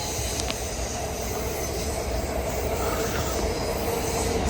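An R143 L subway train rushes fast through a tunnel, a dense, loud continuous roar of wheels and rails with a high metallic squeal and hiss, steady throughout.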